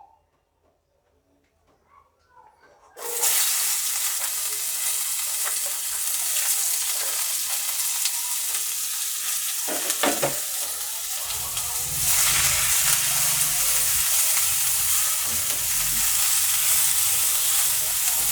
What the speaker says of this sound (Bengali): তো প্রথমে আমি পেঁয়াজ কুচুটা দিচ্ছি।